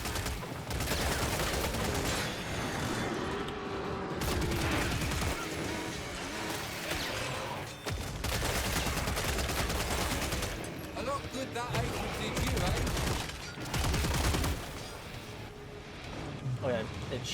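AK and SCAR rifle fire in the video game Killing Floor 3, near-continuous loud automatic bursts with brief pauses, layered over game effects and a player talking.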